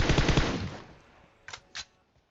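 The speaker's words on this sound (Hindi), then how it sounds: "गोली चलाओ, गोली चलाने के बाद रिलोड दबा दो, रोक दो गोली, उसके बावजूद गोलियां चलती रहती है" Automatic gunfire in PUBG Mobile: a loud rapid burst that fades into a decaying echo, followed by two sharper, fainter single shots, with no talking.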